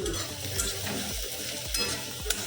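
Chopped garlic going into onions frying in a pan for masala mushrooms, a quiet steady sizzle with soft stirring and a few light scrapes of a utensil, close by, no talk.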